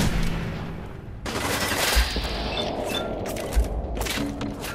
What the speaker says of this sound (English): Except, I am getting shot.